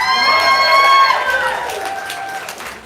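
A live spoken-word poetry audience cheers for a poet, with rising and falling whoops over a crowd roar that gradually fades.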